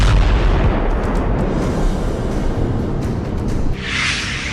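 A deep, heavy explosion rumble for a nuclear test rolls on continuously, loud and booming, then slowly trails off with a hissing tail.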